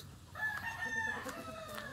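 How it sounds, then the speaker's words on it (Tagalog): Backyard fighting roosters crow, one drawn-out call rising to the front over a low, steady farmyard background with faint clucking. "sa bawat bakuran, may mga roosters, mga panabong ng manok."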